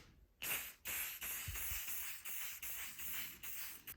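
Red caliper paint hisses from an aerosol can onto an old Mora Stikemaster ice auger under restoration. Several close bursts follow one another, each a steady broadband spray separated by brief gaps.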